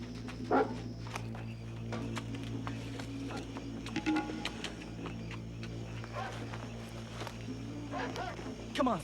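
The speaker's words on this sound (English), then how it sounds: "We're gonna outsmart those hounds." Hounds bark in a dramatic chase scene, sharp barks popping out at intervals over a steady low rumble, with footsteps and movement mixed in.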